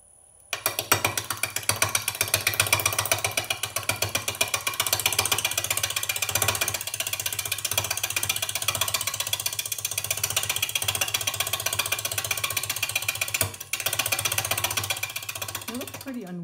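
A wood lathe spins a large, unwieldy pine burl at a few hundred RPM, giving a loud, continuous mechanical whir with a rapid rhythmic chatter and a low hum that runs steadily throughout, heard up close.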